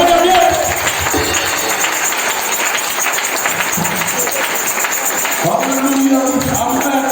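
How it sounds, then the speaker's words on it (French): Church congregation applauding and acclaiming the Lord, a sustained roar of clapping and shouting voices lasting throughout, loud and dense, with some crowd cries rising near the end. "Donnez une acclamation au Seigneur."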